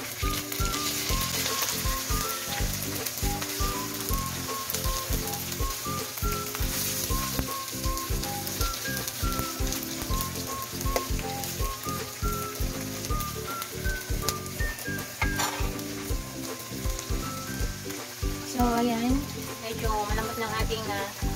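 Pork for ginisang monggo sizzles and fries in a pan, a dense, steady crackle that goes on throughout with occasional stirring, and music plays beneath.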